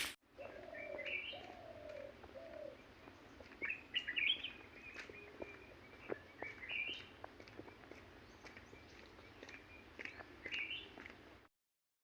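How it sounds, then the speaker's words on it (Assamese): Birds call around an ashram in a quiet setting: soft cooing phrases and scattered high chirps and tweets come in bursts over a low, faint background hum. "চৰাই চিৰিকটিৰ মাত শুনিব পাব"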